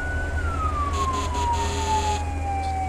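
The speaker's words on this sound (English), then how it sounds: "Definitely going to need the siren through here, I think." Fire truck siren in the video game Firefighting Simulator, heard while driving through thick traffic: one steady electronic wail that slowly falls in pitch, loud and alone over low engine rumble.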